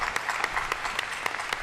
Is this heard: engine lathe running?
no